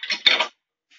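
Plates and cutlery clatter sharply in a couple of quick bursts while a dishwasher is loaded, followed by a short silence and one faint clink.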